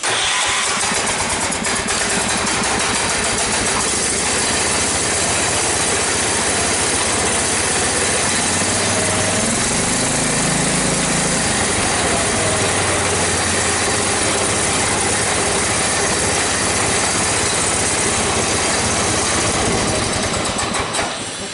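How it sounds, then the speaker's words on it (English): A small engine machine is cold-started on half throttle with the choke on, then settles into a loud, steady idle that runs on alone for the rest of the stretch. "we'll do a cold start on this one too. I think you guys need to hear it. It's a good running machine by far. Half throttle, choke it."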